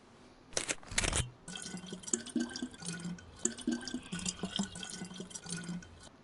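Drinking water from a bottle in the DayZ video game: two sharp splashy bursts, then a quick run of repeated gulping sounds in an uneven rhythm, close and fairly quiet, without speech.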